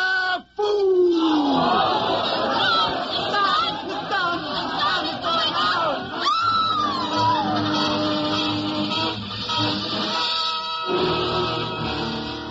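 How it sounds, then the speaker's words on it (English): A crowd in a radio drama screams and wails in panic, a close chaotic mass of overlapping shrieks and cries rising and falling over about twelve seconds. "The crowd went mad with fear."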